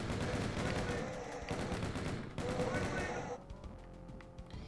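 Rapid sustained chaingun fire in DOOM II, a dense rattling burst of shots running for several seconds before thinning out, loud and close.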